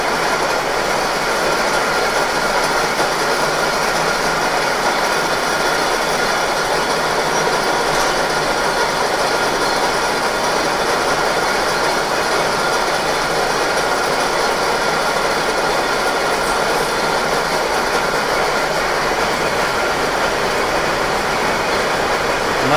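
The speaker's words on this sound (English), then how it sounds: "Another machine has just started up here." Historic cotton mill machinery starting up and running at Quarry Bank Mill, a loud, steady mechanical roar and rattle filling the room without pause, no talk over it.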